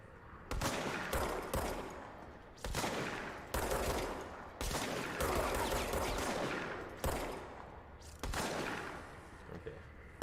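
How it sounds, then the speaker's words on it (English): An enemy's shotgun in the game Control fires in repeated loud blasts, each a sharp crack followed by a decaying roar, spaced about a second apart across the clip, with no voices over it. "Oh, it's got a shotgun."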